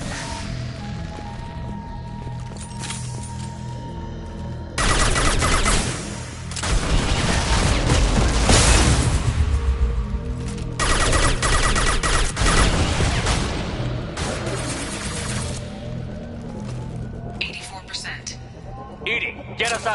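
Dense, sustained gunfire crashes through a PS4 shooter battle, loud and continuous for most of the stretch with a few sharper bursts near the end, while voices talk over the fighting.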